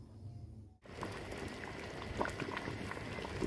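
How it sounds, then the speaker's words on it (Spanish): A kitchen blender whirs loudly and steadily as it blends pozole rojo ingredients, a dense roaring churn that starts abruptly after a brief pause and continues without letup. "les voy a mostrar hasta que esté licuado porque se escucha feo cuando se está licuando."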